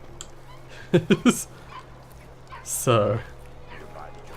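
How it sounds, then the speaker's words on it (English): A dog in Dishonored 2 barks and yips a few times at a distance, a quick triple of barks followed by a longer whining yelp, while a person talks. "There's a dog somewhere."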